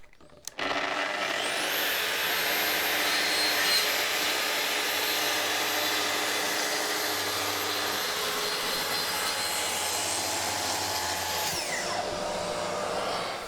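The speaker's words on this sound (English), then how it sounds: "I'll cut a fresh reference edge on the ply" A power saw cuts a fresh edge along a sheet of plywood, a loud sustained whining roar that starts abruptly, holds steady for about eleven seconds and then winds down, with no speech.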